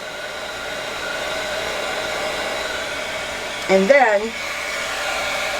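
A heat tool blows a steady, loud airy roar while melting mica and embossing powder on a pinwheel tower card, with a brief voice breaking in near the end.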